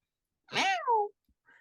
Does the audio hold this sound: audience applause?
no